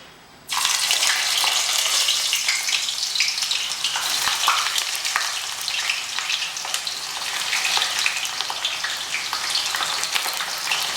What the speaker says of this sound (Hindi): अब इसके अंदर हम सबसे पहले प्याज डालेंगे